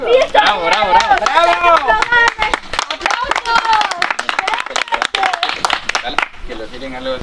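Claps from a small audience rattle through a lively children's performance with dancing, mixed with loud excited shouting and cheering voices throughout.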